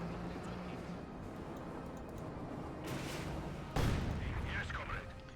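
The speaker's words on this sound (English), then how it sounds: "Flak Panzer unleashing more shots of pure hell there at DevM's" Flak Panzer anti-aircraft gunfire in the Company of Heroes 2 battle, muffled bursts under a steady battle rumble with a sharp loud blast near the end, while a caster talks over it.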